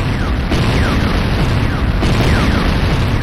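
A sustained, loud rumbling explosion from the destruction of an enemy structure in C&C Renegade, dense roaring blasts rolling continuously with no pause.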